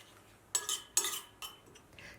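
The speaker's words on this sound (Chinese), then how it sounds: "搅拌均匀" Minced garlic, scallion, chili flakes and sesame oil are stirred in a bowl after hot oil is poured over, producing three or four quick separate scrapes and clinks of a utensil against the dish, with quiet gaps between them.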